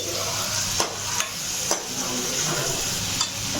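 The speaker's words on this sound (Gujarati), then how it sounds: "જો હું હવે ચણા વઘાર્યા છે મેં" Chickpeas tempered in a pan give off a steady frying sizzle, with a few brief scrapes and knocks of stirring against the pan, close by and without talk.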